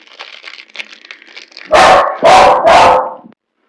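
An irritable pet dog lets out three loud, close barks in quick succession after a few seconds of faint background murmur.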